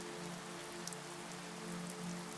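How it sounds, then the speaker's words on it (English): Steady rain falls on a surface at a lakeside cabin, making a dense, even hiss of close patter. It runs the whole time with no break and no voices, over a faint low hum. "Raindrops land"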